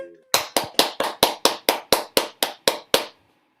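About a dozen loud, evenly spaced hand claps from a single person close to the microphone at an online lockdown music session, ringing briefly after each clap and stopping abruptly.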